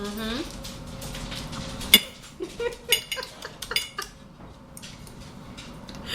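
A knife and other cutlery scrape and clink against a plate in a run of close, sharp taps and chinks, with a person talking quietly underneath.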